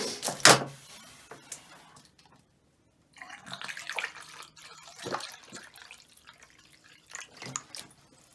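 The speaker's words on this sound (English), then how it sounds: "Trying to keep putting water in here to get more of the air out." Water is poured into a pipe at a lodge's plumbing system to push out trapped air, giving sloshing, gurgling splashes in irregular bursts after a sharp knock and a brief pause, fairly close and faint.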